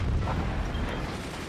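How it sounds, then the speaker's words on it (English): Sniper fire in the artillery strategy game Forts, heavy booming shots with rumbling impacts, continuous and loud throughout with no clear gaps between rounds. "And so we see sniper duels and sniper trades and just constant firing."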